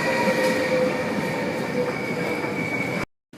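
Inside a crowded passenger train in the Netherlands heading toward Groningen, a steady low rumble of wheels on rails carries a high whine and faint rhythmic clacks, then cuts off abruptly near the end.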